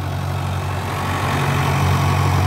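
Arjun 605 DI Ultra tractor engine running under load while pulling a 7-foot super seeder in a field, a steady loud diesel drone with no speech.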